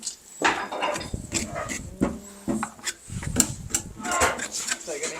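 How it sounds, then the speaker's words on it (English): A knife scrapes and rasps over cooked pork meat in short, uneven strokes, close and gritty, while people talk over it in a kitchen where liverwurst is being made. "If you want to, you can sort of scrape it a little bit with a knife"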